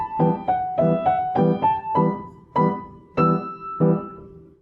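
Piano played with both hands in a phrase from Beethoven's Rage Over a Lost Penny, a run of about eight clear, evenly paced notes and chords, close and alone with no talking.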